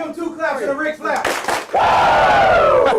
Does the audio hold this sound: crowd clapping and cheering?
yes